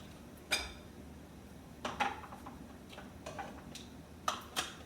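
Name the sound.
cleaning the rims of glass canning jars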